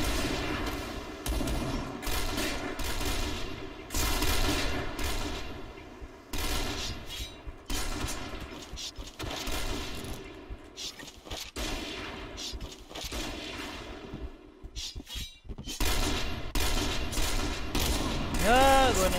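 Gunfire from the Point Blank shooter game, played with sniper rifles and quick shots: dense, busy bursts of shots and mechanical clatter run almost continuously, with game sounds and some voices mixed in.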